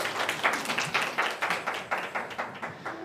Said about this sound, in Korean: 우리 하나님께 감사의 박수.